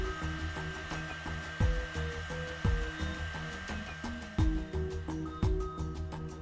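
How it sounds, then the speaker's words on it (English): A hot air blower or heat gun on low heat warms a thermoplastic orthopedic arch support blank, giving a steady close whooshing hum with several brief thumps and knocks over it. "Heat only the parts to be molded with a hot air blower or heat gun on low heat."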